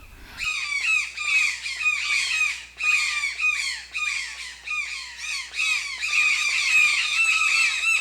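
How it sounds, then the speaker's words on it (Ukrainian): Repeated harsh, croaking squawks from a toucan come in rapid overlapping bursts, loud and near, continuing throughout with short pauses between runs. "тукани одного з видів кричать щось на кшталт Токано, токано."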